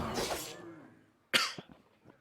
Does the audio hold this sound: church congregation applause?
no